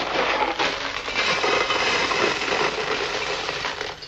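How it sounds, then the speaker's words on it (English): A box of gravel shaken by hand gives a dense, continuous rattling hiss that stays loud and fairly even for about four seconds, with no voices. "What have we got here? Box of gravel."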